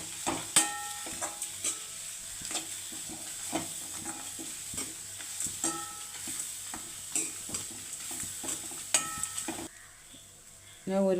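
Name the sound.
roasting ingredients in a pan on a gas stove for prawn theeyal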